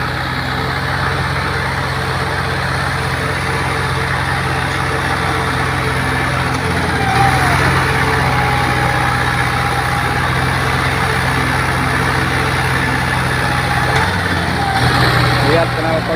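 A tractor with a modified exhaust that shoots flames roars loudly and steadily at close range, its deep engine rumble and droning exhaust running throughout while voices shout over it.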